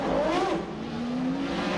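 Jan Lammers' race car tries to pull out of the pit lane at Mondello Park during the 2001 FIA Sportscar Championship and stalls. The engine note sags and slides downward in pitch, straining and fading rather than revving cleanly.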